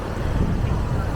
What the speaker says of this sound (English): a very windy day in Palm Cove today. You can probably hear it in the microphone